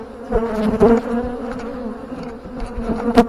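A dense, close buzzing of many honey bees during swarm season as a hive is rearranged, droning steadily with small surges and occasional sharp clicks.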